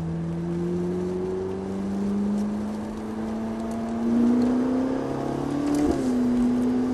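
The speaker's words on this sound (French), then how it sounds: "Essaie de la laisser monter dans le régime moteur, tu pourras beaucoup plus en profiter." Ferrari F458 engine revving under acceleration, a steady rising drone that climbs in pitch through the clip with a brief surge near the end, heard close and continuous with no talking.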